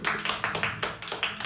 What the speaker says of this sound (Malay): Dengar tepukan.